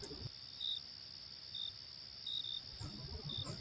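A cicada in the countryside buzzes in a steady, high, shrill drone with slightly louder pulses at irregular intervals, alone and fairly close.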